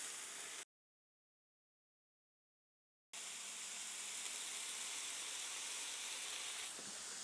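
Bear backstrap meat and garlic sizzling steadily in a pan, a continuous close frying hiss that cuts out briefly near the start, then resumes loud and even with no talk.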